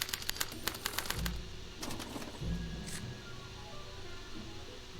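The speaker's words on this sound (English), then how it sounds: "they're relayed to this special typewriter, which prints out a punch card that represents the subject's mind map" A special typewriter in the Back to the Future video game prints a punch card, giving a rapid run of sharp clacks that slows into a few spaced thumps and mechanical rattles, then fades under a low steady hum.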